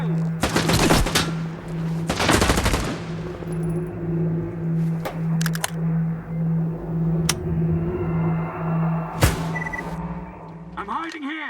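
Gunfire in the video game Stalker 2 comes in loud sharp bursts at the start and again later, over a pulsing electronic tone, with in-game voices.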